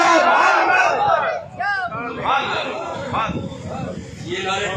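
A large crowd at a Mawlid gathering in Rahim Yar Khan chants religious slogans in loud, rising waves of massed voices, with brief dips between surges and a steady roar of the gathering throughout.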